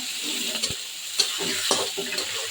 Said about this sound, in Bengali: আর ধনিয়া জিরার গুঁড়া দিয়ে মশলাটা কষি